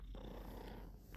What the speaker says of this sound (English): I have the mic close to her, but with the music in the background, I don't know if y'all can hear her purring.